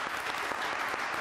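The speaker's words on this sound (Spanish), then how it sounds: "Regálense un aplauso, por favor" An audience at an addiction rehabilitation gathering gives a brief, steady burst of applause.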